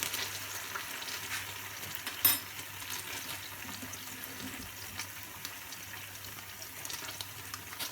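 Sauce for Korean style chicken simmers on low heat with a steady, soft sizzle and faint bubbling, one brief clatter partway through, no voices.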